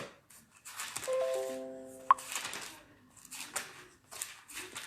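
Crisp rustling and crinkling of the pages of a new Bible, still stuck together, being handled and turned close by, with a brief sharp snap partway through.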